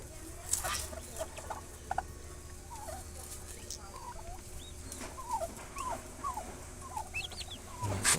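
Newly hatched turkey chicks peep in soft, repeated high chirps, scattered and overlapping, with a few faint clucks and rustles in a quiet room.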